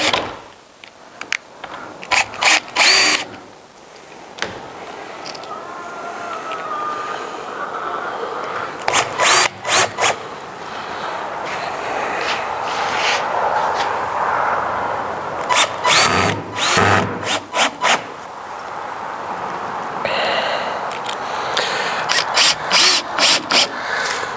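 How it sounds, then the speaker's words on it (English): Cordless power drill driving screws through the flanges of a new window into its framing, with repeated short whirring bursts and ratcheting clutch chatter, close and loud, separated by brief pauses. "Let's get some screws in here just to hold it in place"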